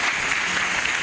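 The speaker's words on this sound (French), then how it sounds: "Est-ce que nous pouvons acclamer pour le Seigneur?" A church congregation applauding for the Lord, dense sustained clapping from a large crowd, loud and close throughout.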